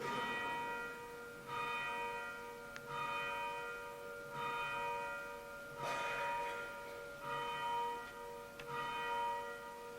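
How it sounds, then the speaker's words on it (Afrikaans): A church bell tolls in regular, evenly spaced strokes, each ringing out with a bright metallic tone before fading, heard at a moderate distance against a quiet background. "dis lekker om die klok weer te hoor"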